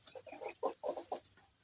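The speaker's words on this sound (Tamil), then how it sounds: "நான் சொன்ன அந்த கோழி என்னமோ பண்ணுது" A farm chicken clucks in a short series of soft, nearby bursts, fairly quiet against a calm background.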